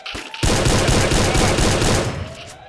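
A loud burst of rapid video game gunfire rattles on for about two seconds after a brief lead-in.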